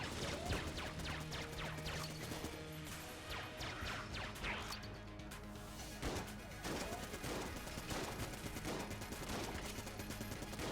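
Rapid, dense gunfire from the video game Enter the Gungeon rattles on without a break, a busy stream of shots and impacts layered with game effects, loud and close for the whole stretch.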